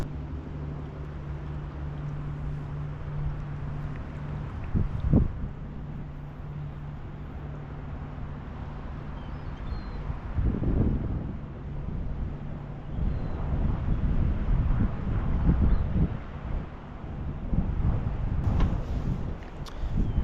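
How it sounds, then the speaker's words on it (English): Wind buffets the microphone on a river during boat fishing in cold, below-freezing weather, a steady rumbling roar that swells in gusts with occasional bumps and knocks, and no speech. "I can't fight the wind anymore."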